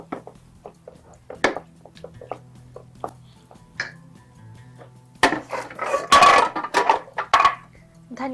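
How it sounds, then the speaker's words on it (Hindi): A spoon clinks and scrapes against a bowl while blended coriander, mint and green chili are mixed in, a series of light, irregular taps, with someone talking over the last few seconds. "ये मैं अब इसमें मिक्स कर रही हूँ"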